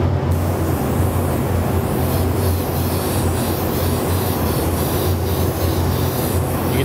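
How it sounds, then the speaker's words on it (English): An airbrush sprays paint onto the back of a clear polycarbonate RC car body, producing a steady loud airy hiss that continues without a break. "So we're gonna get ready to spray."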